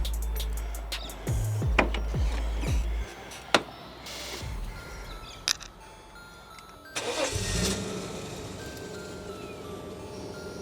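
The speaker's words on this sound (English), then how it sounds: "The car's also got a brand new full exhaust on it by Sharp Exhaust." A Holden VL Commodore fitted with a brand new full Sharp Exhaust cranks in several short bursts, then catches and settles into a rumbling idle, loud and close.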